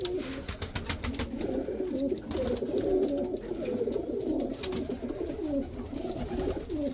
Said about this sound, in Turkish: meşhur kuşlarından karakuyruk,